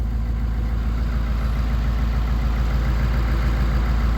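A diesel engine running rough on a cold start, with a steady, loud low rumble throughout and no talk.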